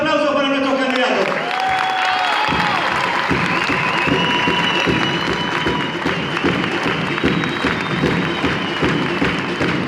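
Sustained crowd applause and cheering at a political rally in a neighborhood open lot, loud and dense throughout, with claps and shouts blending together and voices mixed in.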